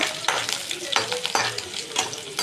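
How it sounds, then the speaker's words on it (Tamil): Sliced onions and about fifteen garlic cloves sauté in a pan, a close, continuous sizzle broken by repeated stirring scrapes and spatula knocks, with no talking. "வெங்காயத்தையும் நல்லா வதக்குங்க."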